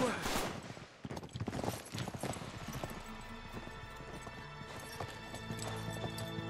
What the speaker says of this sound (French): il y a des hommes à cheval